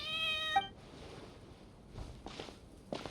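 Cat meowing in Genshin Impact: a single drawn-out meow rises near the start, then fades into soft, quiet game ambience with light footstep-like taps.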